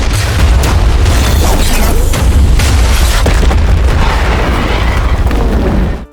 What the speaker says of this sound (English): He detonated explosives, blowing up the entire factory.